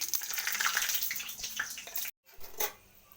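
Whole spices hit hot oil in a wok, crackling and hissing in a bright sizzle with sharp pops, broken by a brief silent gap before a quieter sizzle resumes.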